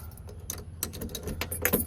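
A bunch of car keys for a 1980 Volvo 242 jangles and clinks in quick irregular bursts, close and fairly loud, with no talking.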